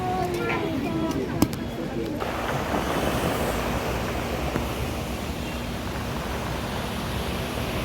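Sea surf rolls in at Mumbai's Chowpatty beach during rain, a broad continuous wash of waves and rain noise close by, with a few brief clicks and a voice heard briefly at the start.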